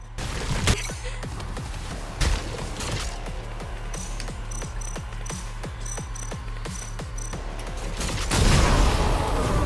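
Loud, evenly spaced gunshots pound in a steady rapid rhythm during combat in the video game Stellar Blade on PC, alongside a few heavier booms and a surge of noise at the end.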